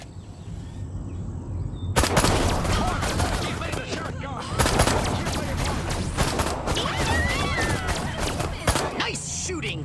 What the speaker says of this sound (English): So I'm unlocking your disintegrator ray.